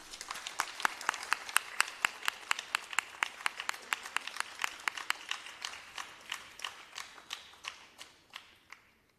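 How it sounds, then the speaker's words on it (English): Steady, rhythmic audience clapping at a Bharatanatyam dance debut, with sharp, evenly spaced claps that gradually fade out toward the end. "I think Deepa deserves a huge round of applause now."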